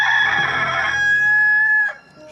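A rooster crows loudly and close by in a single long call that ends abruptly, with no speech.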